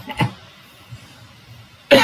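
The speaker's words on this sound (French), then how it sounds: "Excusez-moi pour la toux." A single person coughs briefly near the start, close and fairly loud, followed by a quiet pause and then another short burst of sound at the end.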